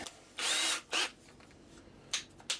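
Short bursts of a power drill with a dull bit whine up close, two longer runs followed by a couple of quick taps, with quiet pauses between.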